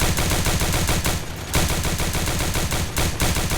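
Rapid automatic gunfire in a Roblox CS:GO-style shooter game, a loud, continuous stream of shots with only a couple of brief breaks.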